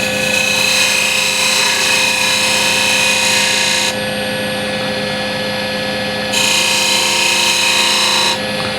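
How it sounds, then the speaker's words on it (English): Spindle gouge cutting a V groove into walnut burl spinning on a wood lathe: a steady, loud scraping hiss over the motor's hum, easing lighter midway then returning strong before dropping again near the end. "Now with the spindle gouge, I'll make another V cut here."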